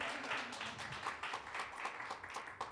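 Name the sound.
congregation applause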